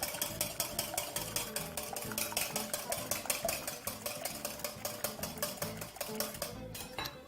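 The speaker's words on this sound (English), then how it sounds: "I'm also going to add just a small pinch of salt and just quickly whisk that together" Egg mixture with a pinch of salt whisked quickly in a bowl makes a fast, steady run of rhythmic metallic clicks and taps, close and continuous, easing off at the very end.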